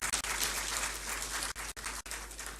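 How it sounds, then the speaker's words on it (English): Sustained audience applause at a formal state courtesy call, dense and steady for a couple of seconds with brief gaps, fairly distant and moderate in level. "A round of applause, please."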